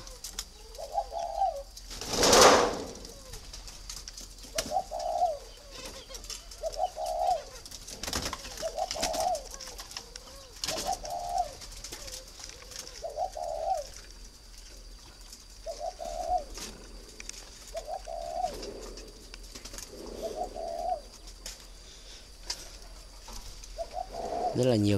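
Soft, repeated spotted dove coos arrive at an even pace over a noisy background, with a brief louder rustle early on.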